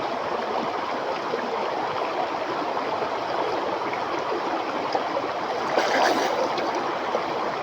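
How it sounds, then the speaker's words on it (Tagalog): River water at Gaco River in Ilocos Sur flows and pours downward in a steady, close rushing wash, swelling briefly louder near the end. "yung tubig na bumabagsak dito pababa"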